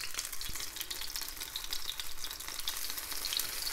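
Spoonfuls of syrniki cheese pancake batter sizzle and crackle steadily in a hot pan, a close, continuous frying hiss with small pops and no voices.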